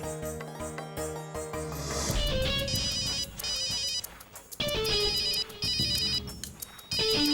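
A melodic ringtone on a phone during an outgoing call in a TV drama scene, bright repeating electronic tones over a backing tune, loud and steady for the whole stretch with short breaks.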